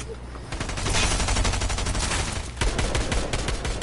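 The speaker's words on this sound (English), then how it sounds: "he's shooting at me" Rapid gunfire rattles in the Fortnite arena, bursts of shots stacking into a dense, loud, continuous fusillade with a brief dip before the firing picks up again.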